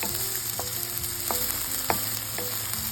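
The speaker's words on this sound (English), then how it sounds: "we stir these for a couple of minutes until they start to soften" Vegetables fry and soften in a pan, a steady close sizzle with a few sharp scraping knocks as they are stirred at irregular intervals.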